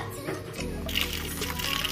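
Mushrooms being rinsed one by one in water, giving a steady close trickling and sloshing with light splashes that grow brighter partway through, with no talk.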